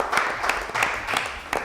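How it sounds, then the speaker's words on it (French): An audience at a Lubumbashi game show claps in a brief, dense burst of applause with a few sharper individual claps standing out. "Merci d'applaudir Pascal qui est avec nous aujourd'hui"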